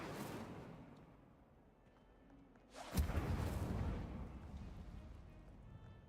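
In Hogwarts Legacy, an Incendio fire spell is cast: a faint rumble, then a sudden whooshing burst of flame that settles into a softer roar before dying away.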